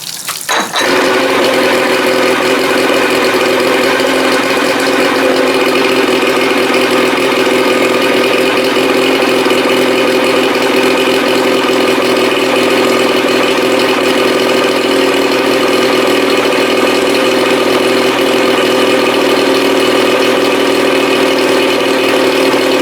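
A 1987 Johnson 40 hp outboard motor on a 1975 16-foot Starcraft boat fires up on first start and settles into a loud, steady, close-up run with a strong even drone and no talk.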